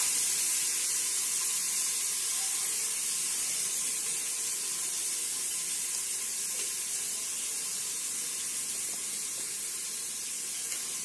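Onions for chicken biryani sautéing until golden, a steady, even sizzling hiss that holds at the same level for the whole stretch, close and without voices.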